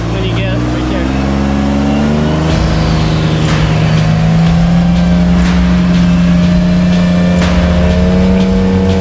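A rock crawling buggy's engine revs and drones steadily on the trail in pouring rain, loud and close, with its pitch rising after a couple of seconds. Voices talk over it.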